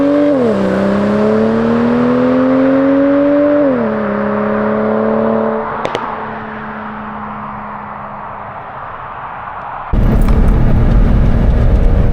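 Turbocharged BMW E90 335i engine revs up in a strong rising whine through a gear change, then drops to a quieter cruise before a rush of wind and road noise, heard from inside the car with no talking.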